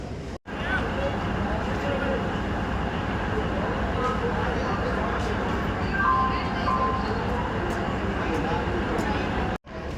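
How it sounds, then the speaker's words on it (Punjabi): Dense, steady station din as a train pulls in at platform 7 of a railway station, with a continuous low rumble and clatter filling the scene, a faint chime-like tone, and people talking in the background. "ਟ੍ਰੇਨ ਆਪਣੀ ਪਹੁੰਚ ਰਹੀ ਹੈ ਪਲੇਟਫਾਰਮ ਨੰਬਰ 7 ਤੇ"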